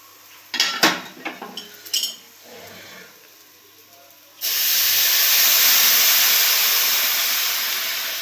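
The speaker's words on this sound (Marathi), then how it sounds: "दूध ओतून घेऊया।" Metal utensils clink and scrape against a pan of roasted rice, then hot milk poured in sets off a sudden loud, sustained hiss of steam that holds steady to the end.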